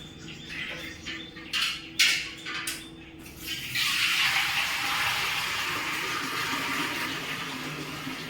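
Water pours steadily into a rooftop storage tank, a broad continuous rush that builds after a few seconds of scattered splashes and bumps.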